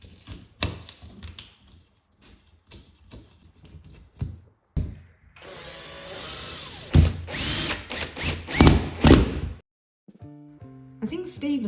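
A power tool drives normal screws into a wall beam, with a sustained whirring burst rising and falling in the middle, surrounded by clatter and handling knocks, with a voice speaking near the start.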